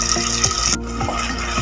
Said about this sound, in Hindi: अब आधा गिलास पानी डालेंगे